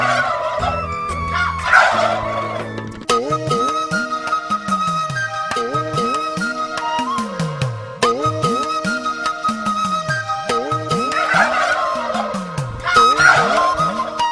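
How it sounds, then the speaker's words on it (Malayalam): A large flock of about two thousand turkeys at a government turkey farm gobbles in repeated overlapping bursts of descending, warbling calls. The sound is loud, near and continuous, with no speech. "ഒന്നും രണ്ടുമല്ല, 2000-ഓളം വരും ടർക്കി സൈന്യം."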